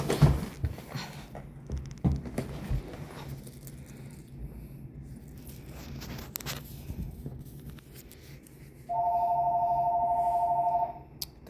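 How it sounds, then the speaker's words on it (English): A phone alert chimes near the end during a live stream of acrylic nail work, a steady electronic tone lasting a couple of seconds above a quiet indoor background with faint handling noises. "Guys, that's just the phone when you're live."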